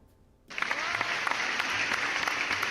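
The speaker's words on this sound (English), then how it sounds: "That applause is for you guys" Recorded applause plays from a soundboard during a live show, bursting in suddenly after a brief quiet moment and then holding as a steady, dense crowd clapping with scattered sharper claps, with no talk over it.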